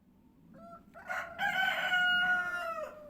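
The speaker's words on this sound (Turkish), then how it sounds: "Sizlere Salih'in horuzlarının sesini dinleteceğim ama şimdi sustular." A rooster crows loud and close in a farmyard coop where four roosters are kept with hens, one long drawn-out cock-a-doodle-doo rising and holding before it trails off, with no talk.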